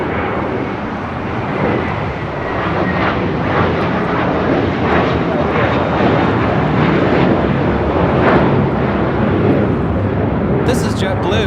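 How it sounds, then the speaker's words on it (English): A JetBlue Airbus A321 departs LAX bound for JFK, a loud, sustained broadband engine roar that holds steady across the whole stretch with a faint chirp near the end. "This is JetBlue 424 taking off to JFK on an A321."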